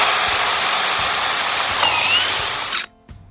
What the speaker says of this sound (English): Next, I need to drill these holes